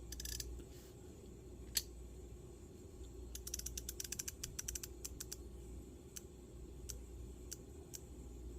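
SK 1/4 inch 90-tooth ratchet made in Taiwan, turned backward to test its back drag, giving fast, crisp clicking pawl ticks in quick bursts and then spaced single clicks, close and fairly quiet over faint background hiss.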